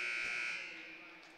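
Basketball game buzzer at the end of a girls' high school game, a steady loud electronic tone lasting over a second and fading slightly.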